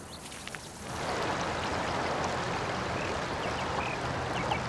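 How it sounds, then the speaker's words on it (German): The Salzach river rushes steadily after a quieter start, a continuous broadband roar of flowing water with faint splashes and knocks beneath it as the current rolls stones along the riverbed. "Das Flussbett entlang rollen Steine in jeder Dimension."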